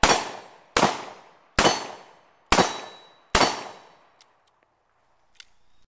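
A light .357 Magnum police revolver fires five loud, sharp shots at a steady, evenly spaced rhythm, each with a ringing decay, followed by a few faint metallic clinks.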